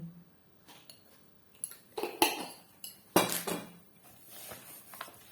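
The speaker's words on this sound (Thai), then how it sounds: "คนให้เข้ากันดีค่ะ" A utensil stirs a sweet filling mixture in a bowl, giving several irregular clinks and scrapes of metal against dish, fairly close and moderately loud, with no speech.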